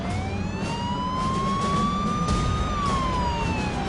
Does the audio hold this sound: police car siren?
yes